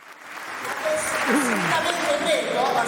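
Audience applause at a tribute event celebrating a fifty-year career, a steady broadband wash of clapping building in the first second and holding loud, with a voice faintly present over it.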